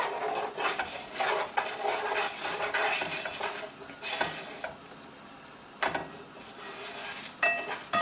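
Popcorn kernels with salt and oil are stirred in a pot, giving a steady run of scraping and clinking strokes from the utensil against the metal, close and moderately quiet.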